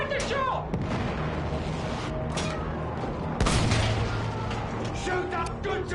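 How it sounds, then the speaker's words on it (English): A Battlefield 1 field gun fires amid loud battlefield chaos, with a heavy boom and several gunfire bursts over constant background noise, while voices shout throughout. "Field gun, take the shot!"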